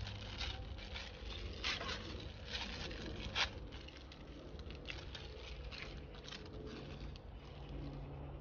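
Rain patters steadily on a garden where flowers and basil seedlings are being planted, a soft continuous hiss with faint scattered ticks, no voices.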